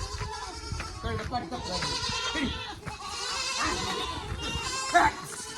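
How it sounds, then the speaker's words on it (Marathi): Goats bleat repeatedly amid busy background commotion in a village, their calls overlapping with people talking nearby. "शेळ्या आले बघा पळत"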